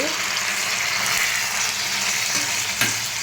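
Vegetables and tomato frying in oil in a pan give a loud, continuous close sizzle with faint stirring, holding steady throughout.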